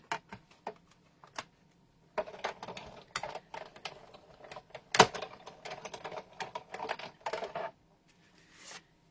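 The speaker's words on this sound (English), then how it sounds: "Let's run it through, die cut it." A die cutting machine feeds card through for a book cradle card, producing quiet, close bursts of rapid clicking and ticking, with a few sharper knocks between the clicks.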